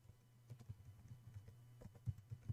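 Quiet, close clicks of a computer keyboard being typed on in irregular bursts while writing HTML code, with a few sharper keystrokes toward the end.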